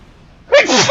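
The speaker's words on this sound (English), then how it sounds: "Excuse me, I'm sneezing." A single loud, close sneeze bursting out suddenly after a moment of near silence.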